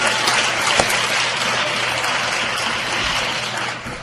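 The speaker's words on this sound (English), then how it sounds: "let's give Ethan a big round of applause." An audience at an Animal Law Conference dinner gives a loud, sustained round of applause, with dense clapping that tapers slightly toward the end.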